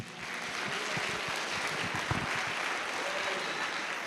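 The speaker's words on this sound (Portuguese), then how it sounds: "As palmas bem altas, louva o nome do Senhor." Church congregation clapping loudly during an evangelical worship service, a dense, steady wash of many hands filling the room for several seconds, with faint voices mixed underneath.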